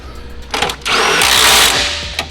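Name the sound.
power tool running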